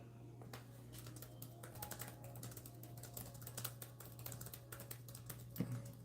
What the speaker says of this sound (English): let me type that out too